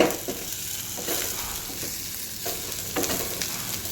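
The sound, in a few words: onion, ginger and garlic paste frying in a pan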